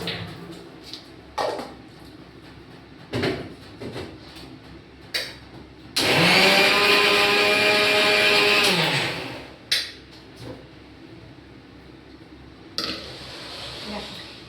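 An electric blender grinds tomato, eggplant and chili in one loud whirring burst of about four seconds, its pitch rising as it spins up, amid kitchen clatter and bumps before and after.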